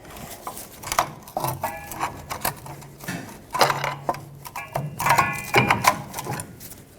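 A pry bar works the brake shoes out of their slots on a Ford F-350 rear axle, giving close metallic scraping, clanks and springy rattles in uneven bursts, with no one talking.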